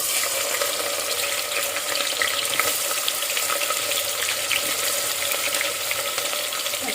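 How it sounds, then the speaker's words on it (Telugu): Onions go into hot oil with cardamom, cinnamon and cloves for a Telangana-style mutton curry, giving a continuous, even crackling sizzle up close with no voices. "ఉల్లిపాయలు వేసుకుందాం."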